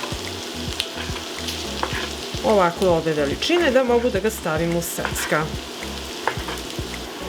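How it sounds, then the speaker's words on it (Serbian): Chopped onion frying in oil in a pan for a homemade chicken salami recipe, a continuous sizzle beneath a voice talking close by. "Dok se luk prži"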